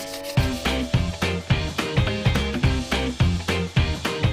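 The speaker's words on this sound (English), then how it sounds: "I'm just going to give it a really light sand." Rhythmic back-and-forth rubbing of sandpaper on a small wooden table, light steady and regular strokes close by, with faint music in the background and no talking.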